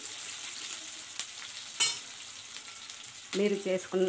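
Onions sizzle in hot oil with a steady crackling hiss, a sharp clatter midway, and a voice speaking briefly toward the end.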